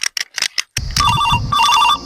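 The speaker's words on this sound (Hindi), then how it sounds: "हाँ रिंग तो होता है घंटी जाता" A phone ringtone chirps in repeated electronic bursts after a few short noisy sounds, fairly close and clear.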